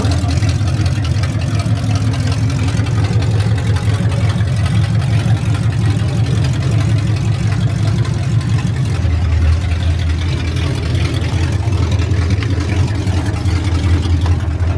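Engine of a 1969 Chevrolet Camaro running steadily, a loud, close, rumbling idle with a rough low throb that drops slightly in pitch partway through.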